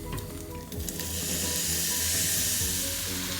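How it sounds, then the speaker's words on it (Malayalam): Paneer cubes sizzle and fry in hot butter in a pan, a steady close bright crackle with faint stirring scrapes, continuous throughout without any voices. "ഈ പനീർ നമുക്ക് ഈ ബട്ടറിലൊന്ന് സോർട്ട് ചെയ്തെടുക്കാം"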